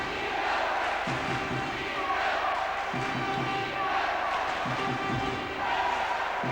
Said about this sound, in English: That's really got the crowd stoked up.